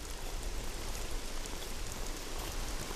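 Steady rain falls on Jirisan mountain on a misty day, a dense, even hiss of drops continuing unbroken with no voices.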